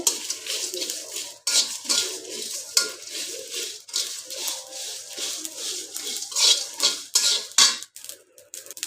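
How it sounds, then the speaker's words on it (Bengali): Whole spices are dry-roasted in a pan with a metal spoon, making close, rhythmic scraping and rattling strokes that come in repeated bursts with no talk. "তো দেখতে পাচ্ছেন আমি এটাকে বেজে নিচ্ছি, হালকাভাবে বেজে নিচ্ছি।"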